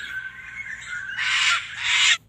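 Cockatoo squawk: harsh, raspy screeches, a sustained grating call followed by two louder bursts, moderately close with no other sounds.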